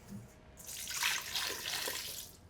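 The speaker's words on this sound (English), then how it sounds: "Then I put my warm water on the top" Warm water poured from above onto a bowl of bagel dough ingredients in a home kitchen, a steady splashing pour lasting a couple of seconds, close and fairly quiet with no talking.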